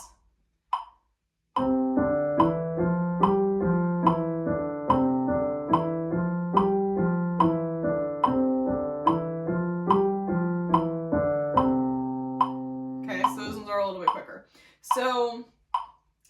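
A metronome clicks steady, evenly spaced eighth notes under sustained piano-like chords for about ten seconds, followed by a short burst of speech.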